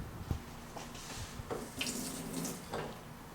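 Water runs from a kitchen tap to wet a spoon, a soft steady splashing stream with a few small clinks, close and fairly quiet.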